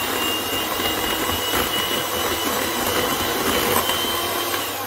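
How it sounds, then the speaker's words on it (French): A kitchen food processor blends cake batter made with petits suisses, a steady close whirring drone that runs without pause and with no talking. "quand je mets les petits suisses, j'aime bien utiliser le robot hein"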